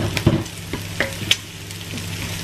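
Onion sizzling in a home kitchen pan while being sautéed for mung beans, a soft continuous fry with several sharp stirring clinks and scrapes, close up and without speech.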